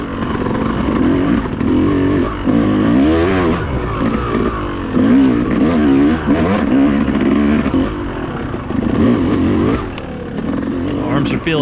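An enduro motorcycle revs hard through a tight wooded trail of chicanes and trees at the Cherokee National Enduro, the engine rising and falling constantly with loud, close throttle bursts.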